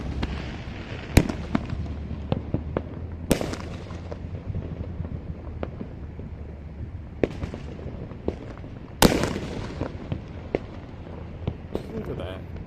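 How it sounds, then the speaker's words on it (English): A city-wide fireworks show bursts around the listener with sharp, scattered booms and crackles, some close and loud and others distant, while people chat throughout. "there are just so many going off always. And I turned back and the sky's exploding again."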